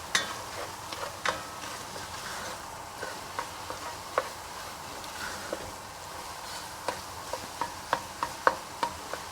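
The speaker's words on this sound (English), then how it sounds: "And now we're going to stir this through." Beef mince being stirred in a hot pan for shepherd's pie, with a steady soft sizzle and scattered sharp scraping clicks of the utensil against the pan, close and fairly quiet.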